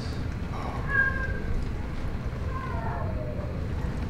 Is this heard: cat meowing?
yes